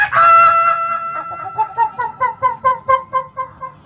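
A performer imitates a rooster with his voice. A long, drawn crow comes first, then a run of quick, rhythmic clucking calls, close and loud, with no ordinary speech.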